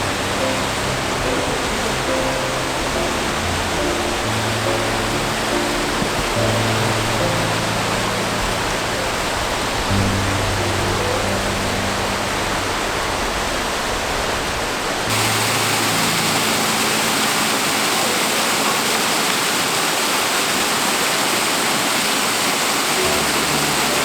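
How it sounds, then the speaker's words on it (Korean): Yongso Falls in Jujeongol Valley on Mount Seorak pours in a dense, continuous roar of falling water, loud and close throughout, with no voices. "드디어 용소폭포가 그 위용을 드러내며"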